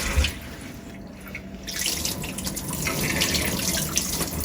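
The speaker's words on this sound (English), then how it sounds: "I always like to wash mine thoroughly and put fresh water on them" Tap water runs steadily into a sink while dried beans are rinsed for a crockpot recipe, a close continuous splashing hiss that grows slightly fuller after the first second or so.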